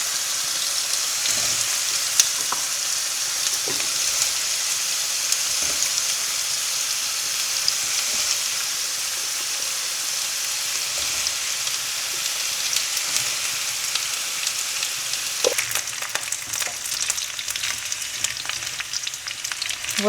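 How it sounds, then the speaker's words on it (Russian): Home-style fried potatoes sizzle steadily in a pan over a gas flame, a continuous dense crackle at close range with a few soft stirring knocks and no talking. "Вот так вот у нас жарится картошечка наша."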